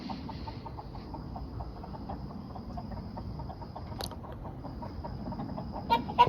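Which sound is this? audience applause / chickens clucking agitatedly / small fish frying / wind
chickens clucking agitatedly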